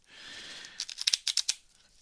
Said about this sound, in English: now we have a scandalous shuffle of Uno cards